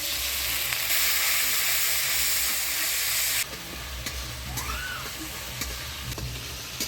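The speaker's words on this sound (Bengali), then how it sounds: "মশলাটা ভালো করে কষিয়ে নিলাম" A ginger, cumin and green chili paste with turmeric, salt and water sautés in a pan, hissing loudly at first, then dropping to a softer sizzle with light stirring sounds.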